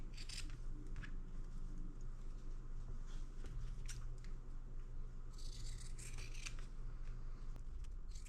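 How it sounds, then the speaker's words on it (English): Scissors trim excess quilt fabric in a series of quiet, close snips and crisp cuts, set against a constant low hum. "Now let's cut off the excess,"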